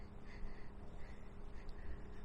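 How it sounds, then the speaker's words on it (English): Birds calling along the Shannon Park Trail, a few faint harsh cawing and quacking calls repeating roughly every half second over a low outdoor background rumble. "Birds chirping."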